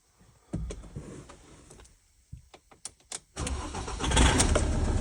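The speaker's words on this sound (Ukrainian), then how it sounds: "починаємо з заводочки" A 2015 Citroen Jumper passenger minibus gets started up close. There are faint interior clicks, then a short series of sharp starter and ignition taps, and the engine catches into a loud, steady idle.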